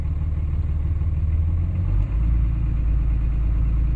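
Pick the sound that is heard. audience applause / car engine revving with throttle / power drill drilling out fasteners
car engine revving with throttle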